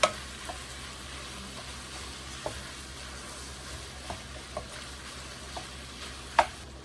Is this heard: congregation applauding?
no